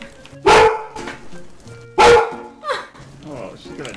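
A dog barks in two loud, sharp bursts about a second and a half apart, close by, with people talking around and between the barks.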